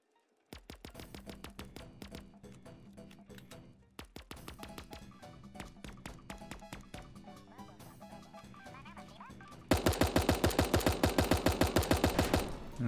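Rapid SMG bursts fire in the video game Super Animal Royale, a dense run of sharp repeated shots, then a pause, another long burst, and a louder, harder final stretch of fire, with no talk.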